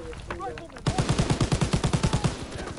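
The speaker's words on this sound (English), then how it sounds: "I got you guys covered as much as I can with a machine gun" Rapid machine gun fire in a video game, a steady rhythmic burst of about a dozen evenly spaced shots starting after a brief moment of background voices and effects.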